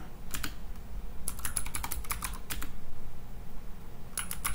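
Typing a terminal command on a computer keyboard, with quick clusters of close key clicks and short pauses between bursts over a low steady room hum.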